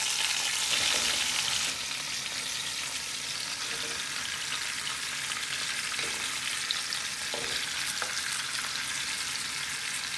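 Short ribs searing in a hot pan give a loud, steady sizzle that runs throughout, with a few soft thumps and scrapes as the meat is turned.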